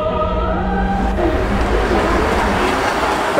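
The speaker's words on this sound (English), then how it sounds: "We're taking a tour around Vienna using the tram system, trams number 1 and number 2." A Vienna city tram rolls along its rails, a loud, steady rumble of wheels and motor with faint rhythmic clatter and a rising mechanical whine, heard from close by with no voices.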